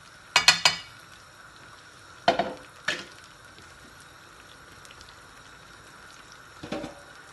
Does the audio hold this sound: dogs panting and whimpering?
no